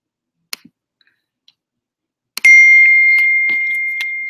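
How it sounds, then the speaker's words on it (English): A computer's notification chime rings out once, a bright sustained tone that slowly fades after a few faint clicks in an otherwise quiet room. "it was my computer that made that sound"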